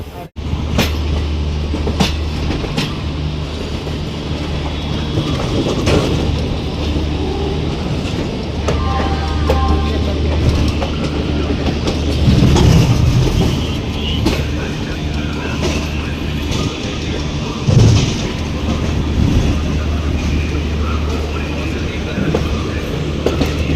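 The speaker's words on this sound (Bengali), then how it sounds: "এখন কিন্তু ট্রেনটা আসতেই চলছে" Loud, continuous rumble of a train rolling along the tracks, with rhythmic clatter and squeals, while people talk now and then underneath.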